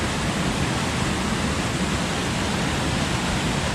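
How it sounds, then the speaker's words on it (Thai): A waterfall at Khao Chamao National Park in Rayong sends out a dense, steady rushing roar of falling water, close and constant with no other sounds. "นี่คือในส่วนของน้ำตก"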